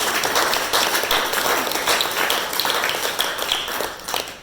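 Audience applause at an organisation's meeting, a dense patter of many hands clapping steadily throughout, close and fairly loud, tapering slightly at the end.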